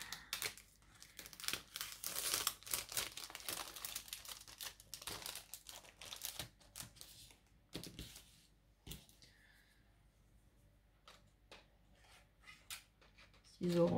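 Paper is cut with orange scissors while crafting a lilac and lavender scrapbook card, giving soft snipping and crinkling close by in quick bursts, then quieter handling of paper.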